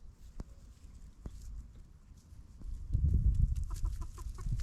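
Chickens cluck nearby on a ranch, with a burst of rapid clucks toward the end over a low outdoor rumble and a few scattered knocks.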